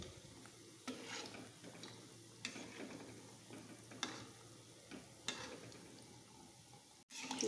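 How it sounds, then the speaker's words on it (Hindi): Gulab jamun frying in hot oil, a steady soft sizzle with a few light stirring clinks and scrapes spaced through it, quiet and close. "हम एक साथ ज़्यादा नहीं फ्राई करेंगे।"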